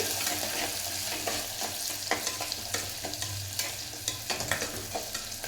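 Onions sizzle steadily in a pan for a village-style fish curry, with crackling frying noise and scattered stirring clinks throughout, close and without speech.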